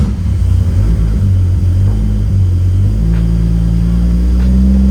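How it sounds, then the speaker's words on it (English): A 2JZ-swapped Nissan S14 engine idles loud and close with a steady low rumble, its pitch stepping up in short revs before settling into a higher, smoother drone with no misfire. "Now I'm gonna turn it over and please Jesus, not misfire."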